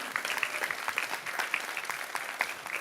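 Steady applause from an audience honouring a discussion panel at a steam-to-soca music event, dense clapping holding at a moderate level throughout.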